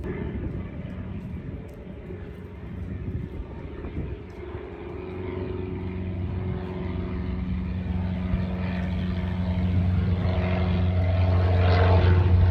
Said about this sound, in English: Look at this plane taking off.